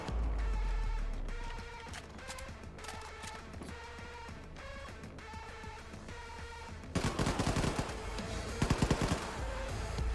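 Rapid bursts of automatic gunfire from the video game Wolfenstein 2, steady and close, growing louder and denser with heavier shots and crashes near the end.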